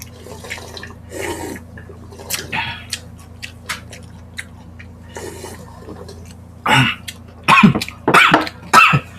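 A few coughs and throat clearing at a Filipino mukbang meal of nilagang pata, bursts clustered toward the end, close and fairly loud amid eating and chewing noises, with no speech.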